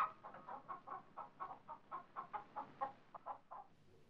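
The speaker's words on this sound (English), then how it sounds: "The hen that laid the golden egg" A hen clucks in a steady, rhythmic run of short notes, about four per second, quiet and alone.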